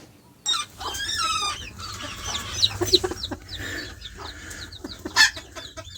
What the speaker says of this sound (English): here are our older roos and some of our older hens